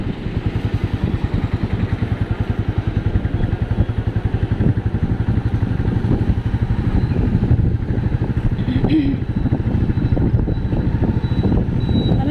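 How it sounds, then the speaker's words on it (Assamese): Motorcycle engine running steadily while riding through town in Jorhat in the evening, a continuous close, loud rumble throughout with some clatter and wind, no talking. "আজি আমি বাইক লৈ আহিলোঁ, বাইকতে আহিছোঁ।"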